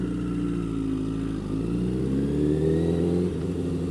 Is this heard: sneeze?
no